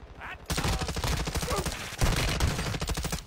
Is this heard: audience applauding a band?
no